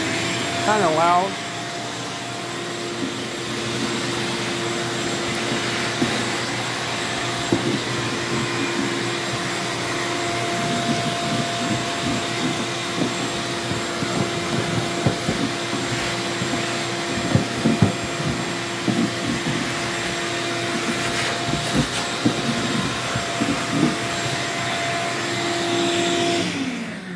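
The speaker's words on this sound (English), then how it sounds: "Probably the biggest vacuum there is" A large shop vacuum roars steadily at close range with a constant whine, running continuously while someone talks over it.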